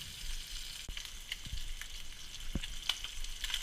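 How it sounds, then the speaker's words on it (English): Frog legs fry in a pan with a steady, close crackling sizzle and dense popping, broken by a few dull knocks and bumps as the pieces are handled. "we can flip the frog legs over now"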